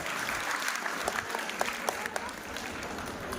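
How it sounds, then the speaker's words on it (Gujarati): A crowd at a children's camp quiz competition final round claps hard and continuously, a dense steady roar of hands close by with no break. "જોરદાર તાળીઓ વગાડો."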